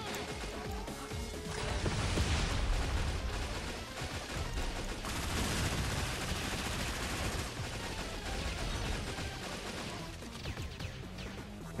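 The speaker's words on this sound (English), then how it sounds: "Rapid fire." Rapid gunfire in the video game Metal Slug: Awakening, on the Lava Realm stage, pours out as a dense, loud, continuous barrage of overlapping shots and crashes without a break.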